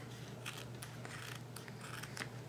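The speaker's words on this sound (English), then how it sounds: "take some scissors, and first I'm just going to trim this down" Quiet, close snipping of scissors trimming duct tape, several short cuts in an uneven rhythm over a low steady hum.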